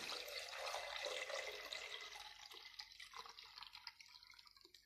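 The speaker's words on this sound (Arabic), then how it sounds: "بحط الميه بتاعتي" Tap water pours and splashes into a container as the base for homemade liquid soap, a close, moderately loud stream that thins into scattered drips and trickles.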